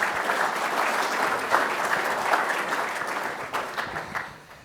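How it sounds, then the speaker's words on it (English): Sustained applause from an audience at a business breakfast seminar, steady clapping throughout that tapers slightly toward the end. "Round of applause, please."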